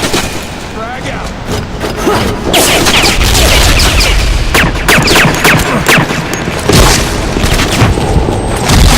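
In the shooter ZMR, a frag grenade goes off amid a busy stretch of loud booms and gunfire bursts, with voices calling out over the continuous battle noise.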